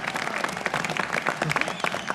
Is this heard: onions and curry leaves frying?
no